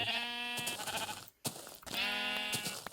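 Two harmonic bleats from a brown sheep in the Minecraft Beta 1.7.3 video game, each about a second long, separated by a brief gap, loud and close with no talking.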